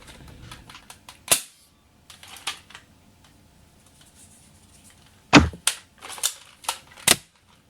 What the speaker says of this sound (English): it's just me and him playing with Nerf guns at this point